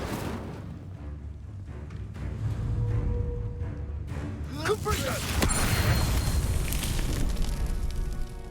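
A fire spell cast in the wizarding video game Hogwarts Legacy erupts in a loud roaring whoosh and crackle of flames, following a brief spoken line and swelling into a sustained burst with rumbling booms.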